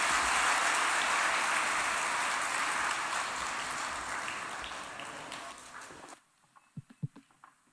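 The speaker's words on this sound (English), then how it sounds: "Applause for His Excellency one more time." Loud, sustained audience applause at a formal Kenyan constitutional anniversary event, fading gradually before cutting off abruptly near the end, leaving only a few scattered claps and faint thumps.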